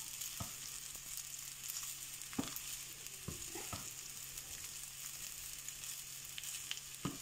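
Rice frying and being stirred in a pan with browned onion: a soft, steady sizzle with occasional scrapes and taps of a spoon, faint and close, with no talk.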